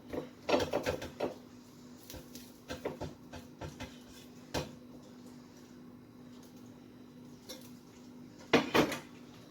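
A saucepan is taken out and handled in a home kitchen, giving a few near metallic clunks and knocks in scattered bursts, with a louder clatter at the end.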